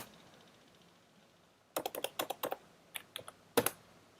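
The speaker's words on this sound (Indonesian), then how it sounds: "Kemudian kita ketikkan di bawahnya" Short bursts of computer keyboard typing while HTML code is entered in Visual Studio Code, with quick clustered key clicks in two or three rapid runs after a quiet pause, close and fairly soft.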